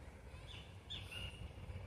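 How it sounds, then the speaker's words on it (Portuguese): Small birds chirp in a park in São Paulo's east zone, a few short high calls over a steady low outdoor rumble, moderately distant and fairly faint. "Cheio de passarinho aqui, gente."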